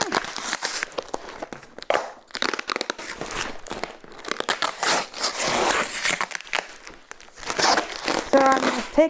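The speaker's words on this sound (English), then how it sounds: "It's the sound of crunching tape." Packing tape being peeled and torn off the box of an Ashford Kiwi 3 spinning wheel, heard as close, irregular bursts of crinkling, ripping and crunching with brief pauses between them.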